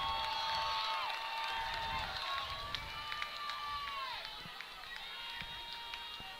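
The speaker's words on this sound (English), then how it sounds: "Crowd getting into it a little bit." Distant crowd noise rises and murmurs in the stands at a high school football game between SMHS and Belaire, a steady wash of voices and cheering with a commentator talking over it.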